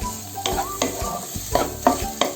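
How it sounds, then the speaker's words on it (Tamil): Capsicum being sautéed and stirred in a pan for Indian-style white sauce pasta: sharp spatula scrapes and taps recur roughly every half second over a soft continuous sizzle, with no talking. "கேப்சிகம் போட்டு 1 minute சாட்டே பண்ணிடுச்சு"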